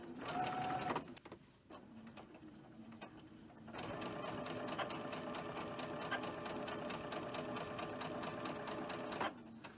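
Sewing machine stitching fabric seams, first in short hesitant bursts, then in a steady, close, rapid mechanical whir that runs for several seconds before stopping.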